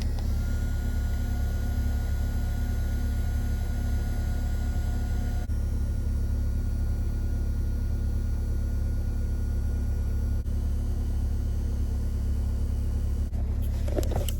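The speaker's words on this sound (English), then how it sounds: "Let my car warm up." A car engine idling while it warms up early in the morning, a steady low rumble and hum that continues unchanged throughout, with no talking.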